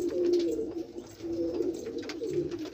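Highflyer pigeons cooing softly in a low, continuous murmur, several birds close by with faint rustling and no talking.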